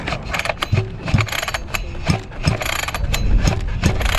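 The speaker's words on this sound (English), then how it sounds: "Or you want to pull the cord a couple times" Someone gives short repeated pulls on the recoil starter cord of a 45cc Baja engine, making a close, busy ratcheting whir with irregular mechanical clatter and thumps.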